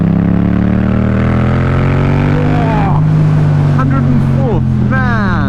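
A 2017 Yamaha MT-07 with a full Scorpion exhaust accelerates hard through the gears, a loud, close, droning engine note climbing steadily before sharp upshifts into fourth and beyond.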